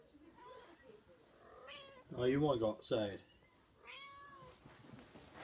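A domestic cat meows indoors, two loud close meows in the middle with softer, shorter calls before and after, while someone talks to it.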